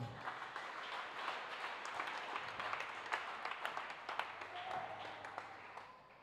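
A church congregation applauds at a Swahili worship service, a dense, moderately distant wash of many hands clapping steadily throughout, with a faint voice underneath.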